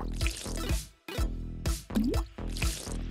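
Clean water drips and splashes while someone washes their face, a steady run of wet plops and squishy drips in a repeating rhythm, close and distinct with a brief pause partway through.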